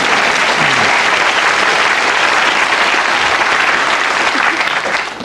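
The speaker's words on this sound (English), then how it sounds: "Round of applause." A television panel-show studio audience breaks into sustained, loud applause, a dense wash of clapping that holds steady for several seconds before easing slightly at the end.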